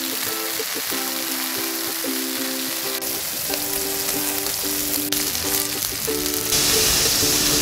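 Marinated beef steak sizzles steadily on a grill, a dense crackling hiss that holds throughout, with a repeating tonal beeping pattern over it.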